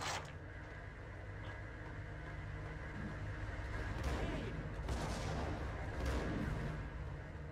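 Max Payne gunfire and dull explosive booms over a steady noisy background, with a few sharper shots standing out, fairly faint overall.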